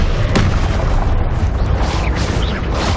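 Confringo blasting spell in Hogwarts Legacy: a loud explosive boom with a sharp crack at the start, followed by rumbling debris and whooshing spell effects.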